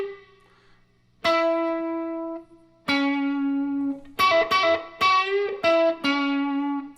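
Electric guitar phrases ring out one at a time, with sustained notes and a quick run where the pitch bends upward, each note decaying alone with no voices.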